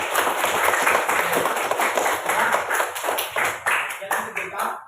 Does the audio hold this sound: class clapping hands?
yes